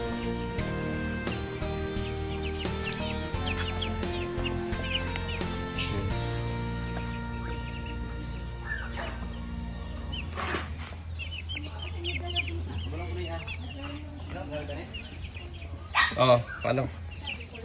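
Chickens at a newly finished coop cluck and call close by, with an occasional flutter of wings, mixed in with people talking and background music.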